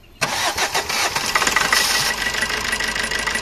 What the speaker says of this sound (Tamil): வண்டி ஸ்டார்ட் பண்ணுங்கள் சார்